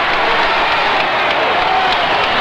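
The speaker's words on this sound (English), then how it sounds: "That screaming you hear is directed at Buddy Rogers" An arena crowd roars and yells at wrestler Buddy Rogers during a professional wrestling match, a loud, dense, continuous wash of voices with some clapping mixed in.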